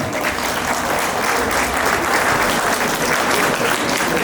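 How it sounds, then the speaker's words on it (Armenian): Wedding guests break into loud, sustained applause for the bride and groom's parents, a dense wash of many hands clapping steadily with crowd murmur and no pauses throughout. "Ես կուզենայի ձեր ծափարություններով հրավիրեմ, որ այստեղ հիմա դուրս գան երկու ընտանիք"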